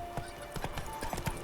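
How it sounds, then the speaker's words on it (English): The horse Roach gallops in The Witcher 3 video game, a quick, even run of hoof clip-clops lasting a second and a half, with a faint tonal hum underneath. "Run, Roach."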